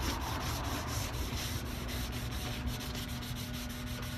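Close, steady rhythmic sanding rubs against the clear coat on an Acura RSX headlight, a continuous scratchy back-and-forth stroke with no voices.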